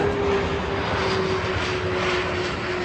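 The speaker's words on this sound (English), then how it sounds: "it's when you get an airplane flying overhead." A fixed-wing airplane drones steadily overhead in a summer garden, a continuous broad engine roar with a faint tonal hum and no speech.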